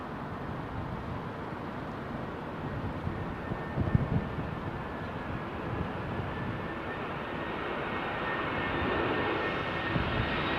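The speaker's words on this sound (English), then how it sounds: "This looks like ETA on approach here. New Italian rebranded Alitalia jet." A rebranded Italian Alitalia jet airliner on approach gives a steady, sustained roar of engines and rushing air, with a faint whine running through it and occasional wind buffeting on the microphone.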